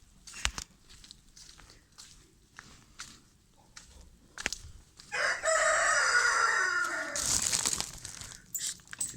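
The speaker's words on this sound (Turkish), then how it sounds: "Tavuk horozlarımız. Traktörün altında gölgede yatıyorlar." Chickens cluck and rustle quietly while lying in the shade under a tractor, then a rooster crows loudly nearby, followed by more clucking and crinkling sounds.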